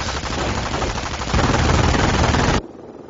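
A machine gun fires in the Company of Heroes video game, a sustained dense rattling burst under a steady battlefield din that cuts off abruptly near the end.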